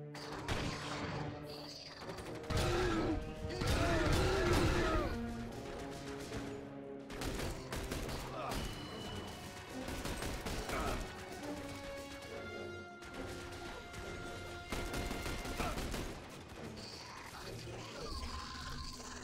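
Gunfire and crashing impacts in the combat video game The Bureau: XCOM Declassified, dense bursts of shots layered over a loud game soundtrack, with brief shouted callouts mixed in.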